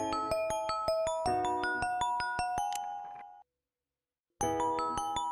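A phone ringtone for an incoming call chimes in a steady repeating melodic pattern of bright electronic tones, cuts off briefly into silence, then starts ringing again, close and clear with no talk over it.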